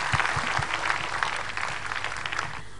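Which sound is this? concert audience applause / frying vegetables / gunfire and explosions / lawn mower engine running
concert audience applause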